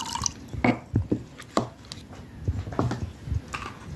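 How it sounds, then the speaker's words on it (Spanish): A little water poured into a pot of Mexican squash stew, heard as irregular drips and small liquid splashes, close by and moderately quiet, with no talking over it. "Le voy a echar poquito agüita."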